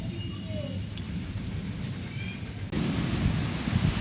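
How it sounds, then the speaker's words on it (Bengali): A heavy rainstorm hisses steadily outside with low rumbles of thunder beneath it, and the downpour grows louder and denser partway through. "ভালোই জোরে বৃষ্টি পড়ছে"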